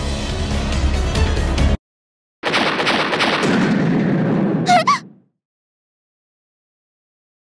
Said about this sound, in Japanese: これはチャームによる射撃。